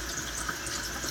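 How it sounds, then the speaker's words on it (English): Water runs into a container with its other hole covered, filling and sloshing around inside as a steady, close, rushing splash with no pauses. "cover the other hole and let the water fill up in there and splash it around"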